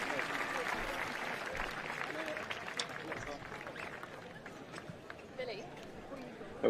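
At Hurlingham, during the Giorgio Armani Tennis Classic exhibition, the home crowd's steady applause for Dan Evans forms a soft, dense patter, with a commentator speaking over it.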